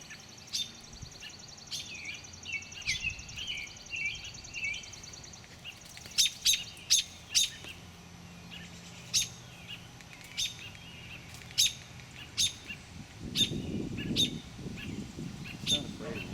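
Birds chirp and tweet around a nest as a snake climbs toward it, with clusters of sharp calls growing more frequent midway, all under close conversation from people watching.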